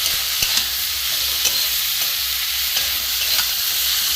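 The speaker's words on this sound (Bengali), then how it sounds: "ধনে গুঁড়ো জিরে গুঁড়ো দিয়ে আমি এটা ভালো করে একটু কষবো" Banana flower sautés with coriander and cumin powder in a pan, giving a steady close sizzle punctuated by occasional scrapes and taps of stirring.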